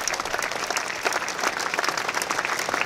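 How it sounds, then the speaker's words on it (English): A crowd at a high school graduation ceremony applauds student activity groups, with sustained, even clapping from many hands across the whole stretch, fairly loud and unbroken. "Let's give this group a round of applause."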